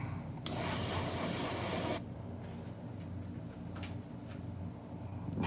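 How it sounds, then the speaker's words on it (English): An airbrush sprays pearl green paint over a fishing lure in a thin, even coat, giving one steady, loud hiss of about a second and a half before cutting off to quiet room sound. "We're gonna spray it everywhere, but we're not gonna do it super thick"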